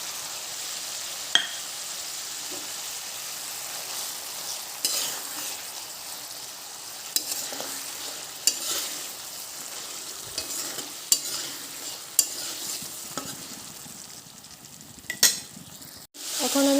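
Pabda fish added to a pan of browned spices for a poppy-seed curry, a steady soft frying hiss punctuated by sharp clinks and scrapes of a utensil, close and continuous without speech.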